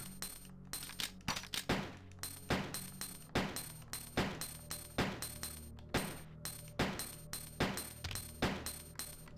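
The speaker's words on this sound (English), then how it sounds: "There's no way I'm gonna fucking sit here and fucking shoot forever." Rapid gunfire from the 1998 video game Resident Evil 2: sharp shots crack in a steady, rhythmic volley for several seconds, loud and close over a low droning game backdrop, with no one talking.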